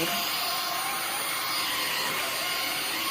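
A Dreametech H12 wet dry vacuum runs steadily and loudly, its close, constant high whine and broadband rush filling the short stretch without a break.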